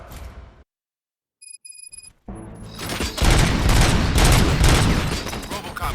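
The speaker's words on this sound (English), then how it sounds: "Gunshots? What's going on?" In the video game Robocop: Rogue City, after a brief silence and a few electronic beeps, a loud burst of rapid gunfire erupts and keeps going, dense and close.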